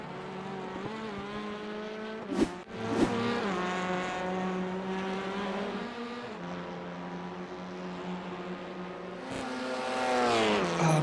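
TCR race cars at the Zolder circuit in a sim racing video game drone continuously, with engine pitch rising and falling through gear changes and a couple of sharp bumps, loud and close.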